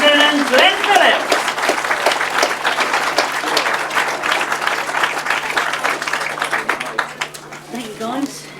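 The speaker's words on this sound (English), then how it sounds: "let's give a big round of applause then to the 500cc style Kinchin Classic winners, Mitch and Appleton and Glen Phillips." A crowd applauds the 500cc class winners at a 2006 grasstrack classic meeting, with dense steady clapping lasting several seconds while a voice briefly talks over the start and end.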